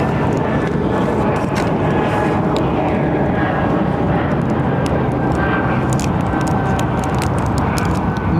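A large airliner departing London Heathrow Airport in late afternoon, its engine roar a steady, loud, broadband rumble holding constant throughout, heard from the airport side with no talk.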